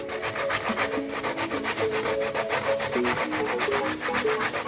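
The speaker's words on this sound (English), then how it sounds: "You have to keep your eyes on the grater because if you have a slip, you will cut your hands." Fresh coconut being grated by hand on a metal grater for Jamaican rice and peas: quick, even back-and-forth rasping strokes in a steady rhythm, close and alone.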